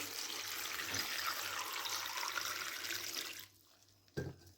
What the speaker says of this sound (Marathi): आता ह्याच्यामध्ये मी पाणी घालते